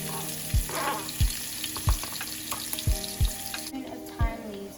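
Chopped garlic frying in a pan, a steady close sizzle under a series of regular low thumps about every half second, ending in a quieter, softer hiss.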